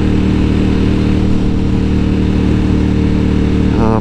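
A KTM 1290 Superduke R motorcycle engine runs loud and close, a dense continuous rumble holding steady throughout with a slight rise near the end.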